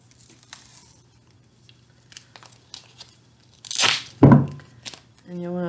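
Sticky tape ripped off a roll in two quick loud tears, then stretched and wound around a tightly closed lid, after scattered soft handling noises, with a short voice at the end.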